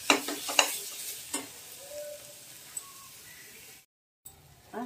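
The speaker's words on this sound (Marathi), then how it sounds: "कांदा खोबरा चांगला ब्राऊन कलरवरती भाजायचा" Onion and coconut roasting in a pan while being stirred, with a few scraping stirs and soft sizzling at the start, then quieter frying, a brief dropout and one more stir at the end.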